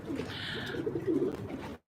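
Pigeons coo nearby in a dense run of soft, throaty low notes, several birds overlapping in a steady murmur that cuts off abruptly.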